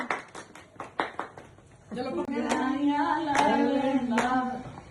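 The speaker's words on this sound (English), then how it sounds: "Clap, everyone." Guests clap to welcome the bride at an Indian wedding, a few sharp uneven claps close by, then music with singing and voices takes over.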